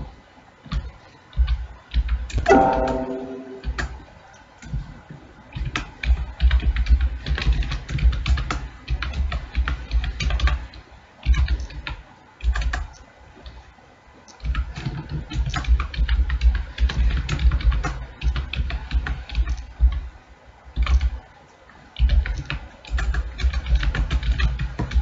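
Steady keyboard typing on a computer while a C program is written, quick irregular clicks in bursts with brief pauses, close and fairly loud, no talking.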